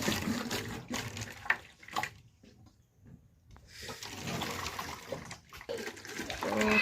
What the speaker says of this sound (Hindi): तो पानी आ रहा है।